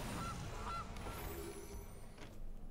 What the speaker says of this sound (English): And we'll play the Gilded Goose out.